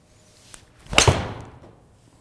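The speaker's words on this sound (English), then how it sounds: "Best sounding irons I've ever hit." A single crisp, sharp click of a Nicklaus Miura forged blade golf iron striking a ball outdoors, followed by a brief whoosh trailing off into quiet.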